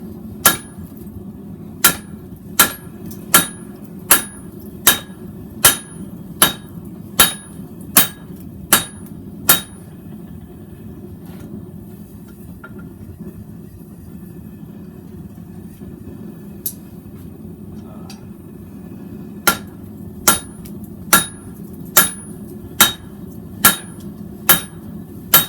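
A hand hammer strikes a metal guard to flatten it, delivering two runs of about ten evenly spaced, sharp ringing blows separated by a quiet pause.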